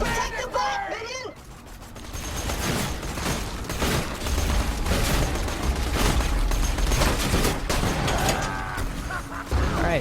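Gunfire from Borderlands 2 as the character Zero plays, with a sniper rifle shot among a busy run of rapid shots, bangs and mechanical clatter under game sound effects and voices.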